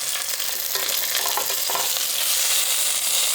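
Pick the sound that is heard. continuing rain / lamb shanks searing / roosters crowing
lamb shanks searing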